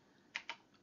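Two quick sharp clicks of keys on an Acorn Electron home computer keyboard, close and crisp over a quiet room, with a fainter third tap trailing after.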